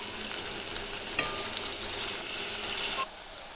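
Green chillies fry in hot oil in a pan, giving a steady, close hiss of sizzling with a brief clatter of stirring partway through, then dropping a little quieter near the end.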